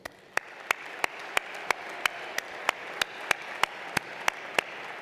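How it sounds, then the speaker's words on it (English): Commencement applause at a university fall graduation comes through as evenly spaced, sharp claps about three per second, standing out over a soft bed of distant clapping. "give them a big round of applause"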